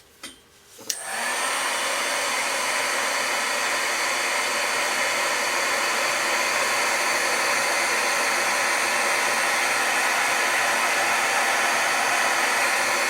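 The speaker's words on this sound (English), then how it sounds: "I'll hit this with my heat tool" A heat embossing tool blows hot air over multicolor embossed powder, switching on with a click and then roaring as a steady, loud, close whoosh that holds unchanged to the end.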